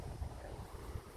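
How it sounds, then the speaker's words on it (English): Steady wind blows across a windy allotment plot with leeks and asparagus, a continuous low rumbling gust buffeting the microphone, with no talk. "It's a rather windy plot."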